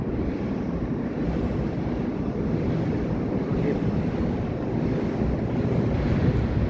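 Steady, continuous rush of sea waves in front of a condo garden, with wind buffeting the microphone throughout; no talking.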